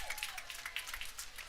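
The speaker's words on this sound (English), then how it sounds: "Big round of applause" A crowd applauding at a baseball game, clapping spread across the stands, faint and distant, with a brief call rising over it.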